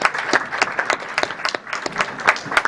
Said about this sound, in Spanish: aplaudimos a Gustavo y no aplaudimos a Víctor